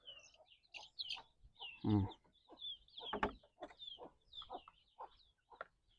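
Chickens on a Thai duck and chicken farm, with scattered clucks and short calls and one louder squawk near the middle, a few birds nearby calling intermittently against quiet surroundings.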